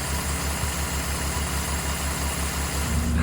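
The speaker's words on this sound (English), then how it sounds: "And that was how to start your tractor in 400 easy steps." A tractor engine idles steadily in a snowless Alaskan winter, a close, even low throb with a regular pulsing beat that holds throughout and deepens slightly at the end.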